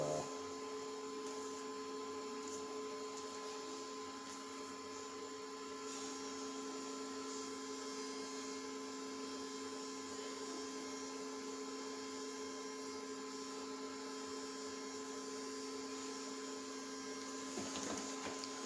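An IDEX 3D printer with a red frame and Neopixel lighting runs steadily for the whole stretch, its motors giving a constant tonal hum with faint mechanical whirring, heard close and alone, with a slight rise near the end.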